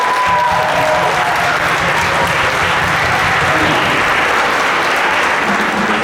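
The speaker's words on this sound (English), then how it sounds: "give a round of applause for everyone" Audience applause fills a high school auditorium after a stage show introduction, a dense, steady wash of many hands clapping at close range for about six seconds without pause.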